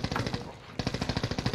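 Rapid automatic gunfire in a first-person shooter video game comes in two dense, loud bursts of evenly spaced shots split by a short pause.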